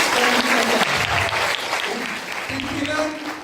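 A crowd claps steadily at a silat ceremony, the applause dense and continuous, with a voice speaking over it.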